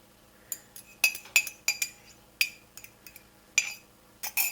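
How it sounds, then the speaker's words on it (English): Fork whisking egg in a bowl for cupcake batter: a series of sharp, bright clinks against the bowl in uneven bursts, close and fairly quiet, with no talking. "I'm just going to take a fork and whisk that up"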